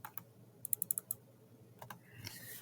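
A computer mouse clicks on a desk while someone designs a poster in Canva: a quick run of crisp, close clicks, then a pair of clicks, then a soft shuffling rustle.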